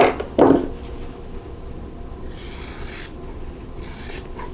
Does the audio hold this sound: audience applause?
no